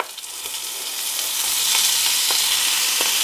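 Merguez sausages and diced tomatoes frying in a pan give a steady, bright sizzle that builds slightly and holds, with a few faint stirring clicks and no voices.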